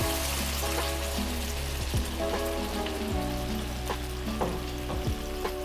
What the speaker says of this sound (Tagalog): Lalagay na po natin yung ating sauce